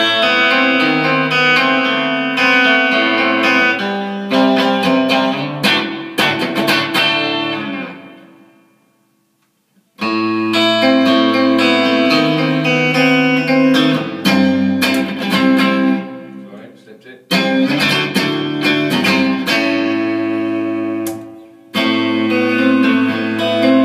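A Telecaster partscaster electric guitar with Tonerider pickups, a three-way selector, an Rc Guitars body and an AxesRus neck, played on clean tones, rings out in loud strummed and picked chords with sustained notes, broken by two short silences.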